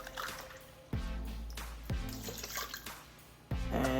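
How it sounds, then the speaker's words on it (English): Cold water poured in several separate additions into an oat milk mix, each pour starting with a sudden splash and settling into a steady, close watery trickle. "we're adding in 4 cups of water, cold water"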